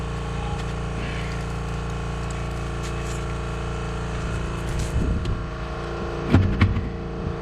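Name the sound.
air compressor running in the garage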